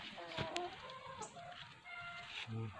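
Chickens clucking in a small backyard vegetable garden, soft and somewhat distant, a few scattered clucks over low outdoor background noise.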